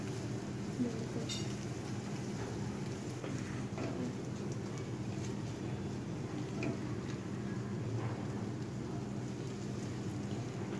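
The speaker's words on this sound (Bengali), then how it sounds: "অল্প পরিমাণে লবণ দিয়ে ডিম 3টি ভেজে নিব" Three eggs with a little salt frying in oil in a pan. A steady, faint, even sizzle continues unbroken throughout, with no talk.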